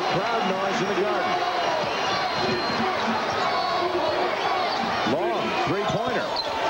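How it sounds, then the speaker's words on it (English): Madison Square Garden crowd buzzes and cheers during a Rutgers versus Georgetown Big East Tournament basketball game, a steady roar with squeaking sneakers and bouncing balls on the court beneath continuous play-by-play talk. "a little crowd noise in the Garden"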